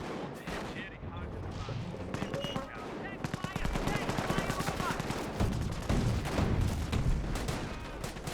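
Bren gun fire in the World War II strategy game Company of Heroes: rapid bursts of machine-gun shots mixed with other battle gunfire and explosions, steady and loud throughout, with commentators' voices talking over it.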